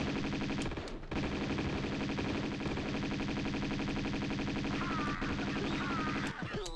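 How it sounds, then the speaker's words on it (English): Rapid sustained SMG machine-gun fire in Tomb Raider II, loud and continuous for several seconds with a brief break near the start and a short pause before the end, no talk over it. "That guy's got a machine gun. The SMG."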